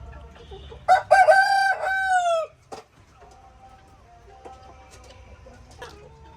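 A rooster at a poultry farm crows loudly once up close, followed by quieter scattered clucks from hens.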